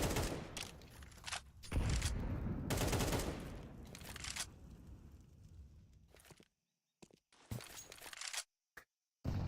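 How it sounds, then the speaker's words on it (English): Warning shots ring out on the Ancient map during a professional Counter-Strike match, with sharp gunfire bursts and scattered shots amid game noise, ending in a few isolated reports separated by silence. "Still puts some warning shots here."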